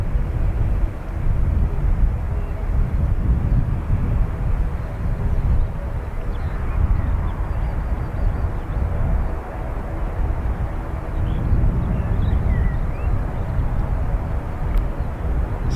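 A Lufthansa airliner arriving from Munich at Dublin Airport gives a steady, loud low-frequency roar that holds throughout with slight swells, no voices.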